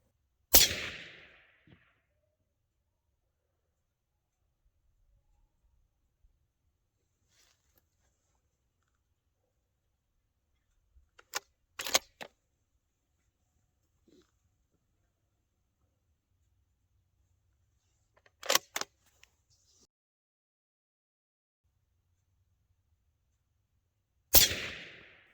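Suppressed Ruger RPR 6.5 Creedmoor fitted with a Dead Air Nomad-L fires at a 1000-yard range: four isolated sharp cracks, a couple followed by a quick second report, separated by long stretches of near silence.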